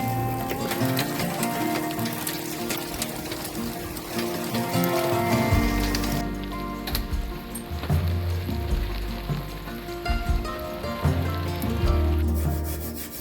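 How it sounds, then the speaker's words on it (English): Continuous dense pattering and rattling of hail on a shed, rising and thickening with heavy low thumps partway through. "That hailstorm didn't last longer than 5 minutes"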